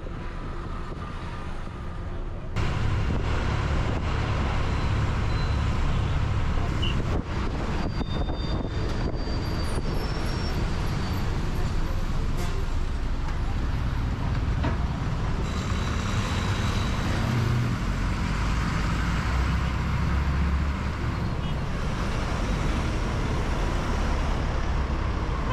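Steady engine and road rumble aboard Hosur's first low-floor city bus, a converted older vehicle in good engine condition, running continuously through a short city ride with no voices.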